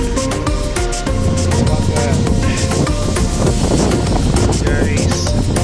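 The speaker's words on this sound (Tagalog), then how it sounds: "Sobrang hangin." Strong gusting wind on a coastal city road by rough sea, roaring broadband buffeting over the microphone with surf and passing traffic underneath, loud and continuous.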